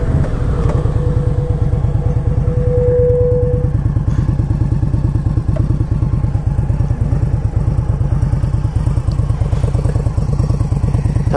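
An Indian Scout motorcycle engine idles or cruises close by, with a steady, rapid, throbbing pulse that continues evenly throughout and has faint clatter over it. No voices are heard.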